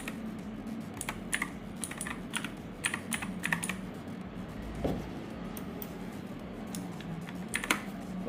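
Rapid typing on a computer keyboard, steady clusters of light clicks with brief pauses, close and clear over a faint room hum.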